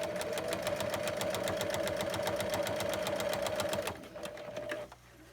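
A sewing machine runs a steady, rapid stitch while back stitching a cargo pocket hem, then slows and stops near the end, leaving a quieter low hum.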